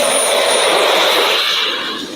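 A model jet engine on a military-style drone roars loud and steady throughout, a broad turbine whoosh with a high whine, easing slightly toward the end.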